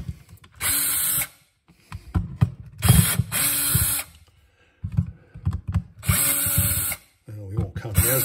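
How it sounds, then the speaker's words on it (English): Screws being driven out of a Black & Decker 20V Matrix tool housing, several short bursts of a small power driver whirring, separated by clicks and handling noise, with a person talking in between. "So let's count the screws as we take them out."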